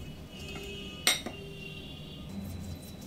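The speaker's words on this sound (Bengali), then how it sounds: "শুকনো লঙ্কা ভেজে নিয়েছি। এবার একটা প্লেটে উঠিয়ে রাখবো।" A single sharp metallic clink of a utensil against a pan or plate rings out, followed by a softer second tap, while lifting fried dried red chillies from oil onto a plate in a home kitchen.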